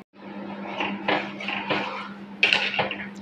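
Khirsa, a thickening milk sweet, stirred continuously in a pot, with several scraping and clinking strokes of a spoon against metal over a steady stove hum, close and fairly loud, no talking.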